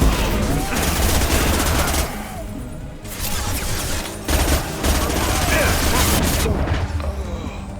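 Sustained gunfire from a firefight in Mass Effect 2, with dense overlapping rapid shots and mechanical clatter that briefly dip before resuming loud and continuous, mixed with faint voices.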